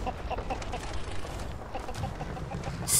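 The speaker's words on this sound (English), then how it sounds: "I think the chickens are spying on us." Chickens clucking close by outdoors, a busy series of short, choppy clucks and squawks overlapping one another, fairly loud and steady.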